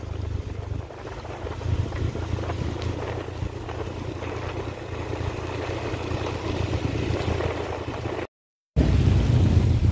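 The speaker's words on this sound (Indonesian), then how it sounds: "Lumayan deras ini hujannya teman-teman." Heavy rain falls while a vehicle drives along a new road from Alahan Panjang through Solok to Bayang, Pesisir Selatan. A steady, dense roar of rain and road rumble continues throughout, cut by a brief dropout near the end.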